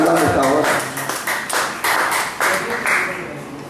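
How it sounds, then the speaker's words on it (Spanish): Church congregation clapping together during a sermon, a steady loud wash of applause with some voices mixed in. "Dé un aplauso a Dios que te lo está acordando esta hora."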